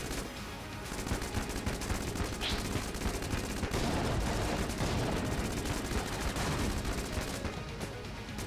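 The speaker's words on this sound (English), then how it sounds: "This Heck Blaster is I'm a fan. It be doing some blasting." Rapid, sustained gunfire from the Heck Blaster in the video game Enter the Gungeon, a dense continuous barrage of blasting shots at steady loudness throughout, with no talking.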